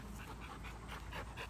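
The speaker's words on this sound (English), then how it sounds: "I'm pretty sure she's sniffing me" An eight-month-old Dogo Argentino puppy pants rapidly and sniffs close to the microphone. The quick, rhythmic breaths run continuously at a low level, with no talk over them.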